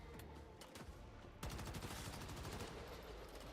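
Rapid automatic gunfire in the shooter Once Human, fast evenly spaced shots that grow louder and denser partway through, continuing steadily to the end.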